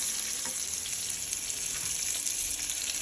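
Salmon and spinach sizzling in butter in a pan, a steady close crackling fry with faint stirring, continuous and without talk.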